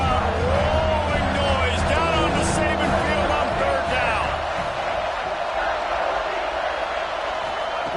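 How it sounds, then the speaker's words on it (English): Stadium crowd roar in College Football 26 at Alabama's Saban Field on third down, a loud, sustained wall of crowd noise with a commentator talking over it throughout. "The Tide crowd rolling noise down on the Saban field on 3rd down."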